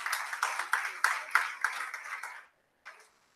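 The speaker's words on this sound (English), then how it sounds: "I'd like you to give Seva as well a big round of applause" A seated audience at a women's parliament chapter launch in Mumbai bursts into a round of applause, dense overlapping claps sustained for about two and a half seconds, then a brief scattered patter of a few last claps.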